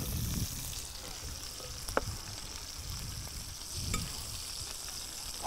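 Shrimp with salt and chopped parsley fry in a pan, a steady soft sizzle broken by a few scraping stirs and clinks as they are turned, faint and close.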